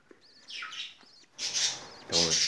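Rainbow parakeets chirping in a home aviary with young birds present, sharp repeated tweets and calls at close range, growing louder toward the end.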